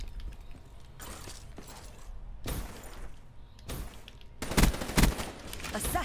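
Machine-gun bursts in Call of Duty: Black Ops 3, a 1v1 match, with several loud broadband volleys separated by quieter gaps, the sharpest pair of bursts near the end.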